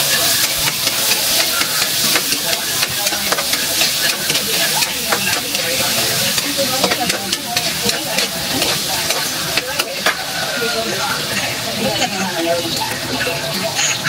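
Chicken curry cooking in a pan, with steady stirring and a continuous sizzle and hiss of frying running loud and close throughout, amid busy kitchen clatter.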